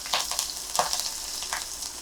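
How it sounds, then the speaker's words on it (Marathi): Mustard seeds, cumin, asafoetida, ginger and green chilli tempering crackle and sizzle in hot oil, with a few sharper pops over a steady frying hiss. "फोडणीसाठी तेल तापलंय मोहरी घालते जिरं त्याच्यानंतर हिंग आणि आलं आणि मिरची घालते मी फोडणीला"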